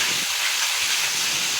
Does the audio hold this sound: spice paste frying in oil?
yes